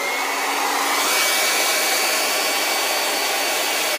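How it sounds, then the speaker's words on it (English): A hair dryer blows steadily on wig glue spread over a wig cap, a loud, continuous close-up whoosh of air with a faint motor whine and no pauses. "So now you just take your hair dryer."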